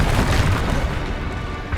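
The Confringo explosion spell from the video game Hogwarts Legacy, a loud, dense blast that roars continuously with a low rumble, swelling again briefly at the end.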